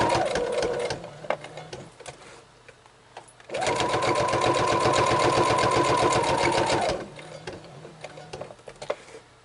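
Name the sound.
sewing machine stitching a small journal card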